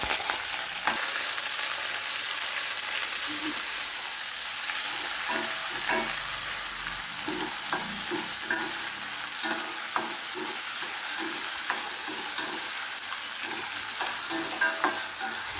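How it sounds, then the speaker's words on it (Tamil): Sliced onions with fennel seeds, curry leaves and green chilies frying in oil for an egg curry, a constant close sizzle with repeated scraping knocks as a spoon stirs the pan. "வெங்காயம் வதங்கட்டும், கொஞ்சம் நேரம் பொரியட்டும்"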